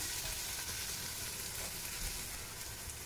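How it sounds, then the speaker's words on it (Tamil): Onions sauté in a pan for mutton dalcha, producing a soft, even sizzling hiss that holds steady throughout without pauses. "வெங்காயம் ஓரளவு நல்லா வதங்கிருச்சு. இதுக்கு மேலே இது வதங்காது."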